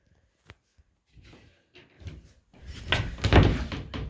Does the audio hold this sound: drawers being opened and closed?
yes